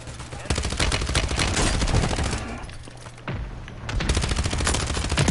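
Gunfire in Call of Duty Warzone rattles almost nonstop in dense automatic bursts, loud and close, with a brief drop in intensity before the shooting resumes heavily.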